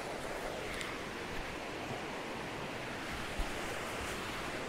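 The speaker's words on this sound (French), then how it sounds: "c'est le ruisseau du Tolerme, en fait, qui alimente le lac" The Tolerme stream flows into a lake near Latouille-Lentillac in the Lot, a steady, even rush of water heard close and alone, with no voices.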